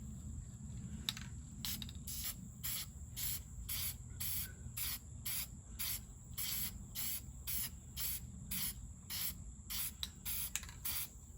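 Short repeated hissing bursts from a rattle can of spray paint, about a dozen evenly spaced sprays over a steady low background hum, fairly faint and close, with no talking.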